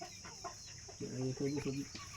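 Chickens cluck close by in a short burst of three or four clucks, over a faint steady hum and soft background noise.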